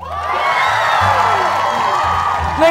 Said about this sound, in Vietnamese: Ai cổ vũ cho bạn nam mặc áo màu trắng thì vỗ tay